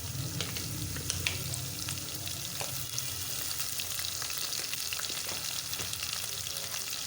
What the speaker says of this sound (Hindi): जो कि हम लोगों ने एक अदद प्याज लिया था, उसके हमने कुकिंग ऑयल के अंदर डाल दिया है।